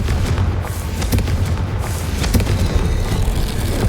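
A Confringo blast spell goes off in Hogwarts Legacy, a burst of booming, crackling impacts with sharp bangs scattered over a dense rumbling roar of battle noise, with no voices.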